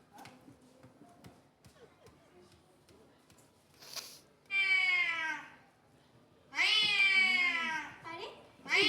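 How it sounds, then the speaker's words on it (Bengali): A cat gives two long, loud, close meows, one in the middle and one near the end, during a staged stage-play scene. Faint talk and light knocks come before them. "আরে, এই বিড়ালটা ডাকছে কোথায়?"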